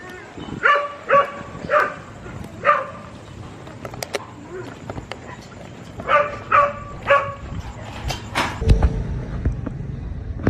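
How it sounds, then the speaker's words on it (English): Stray dogs on Isla Mujeres barking in several rapid clusters of sharp yaps, fairly near, with pauses between bursts and some street noise and rumble toward the end. "there's mad stray dogs"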